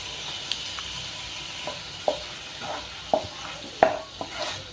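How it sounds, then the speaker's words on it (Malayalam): A spoon stirs a red wine sauce reducing in a pan, with a soft steady sizzle and a few light scrapes and taps against the pan, close and quiet. "ഇനി നല്ലതുപോലെ ഒന്ന് ഇളക്കി കൊടുക്കാം വൈൻ കുറുകി വന്നിട്ടുണ്ട്"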